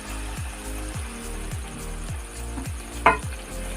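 Ash gourd cooking with coconut and prawns in a pan, sizzling hard under a regular, repeating low pulsing sound, with a brief sharp splash as a little water goes in.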